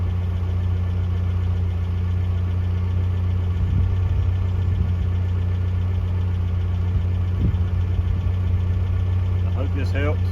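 A 1982 Toyota SR5 4x4 pickup engine idles steadily with a low, continuous drone and faint rattly vibration, close by, with brief sharper knocks near the end; a voice speaks briefly over it.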